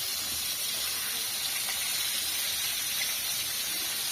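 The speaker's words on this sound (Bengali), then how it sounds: "মাছটা ভাজতে সুন্দর লাগে।" Fish frying in oil in a flat pan in a village kitchen, a steady close hiss of sizzling that runs evenly throughout without pauses.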